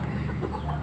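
Soft, steady clucking from a chicken, close by, with a continuous low hum underneath and no talking.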